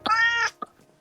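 A cat meows once in the video game Minecraft, a clear, close, sustained meow followed by a couple of faint clicks.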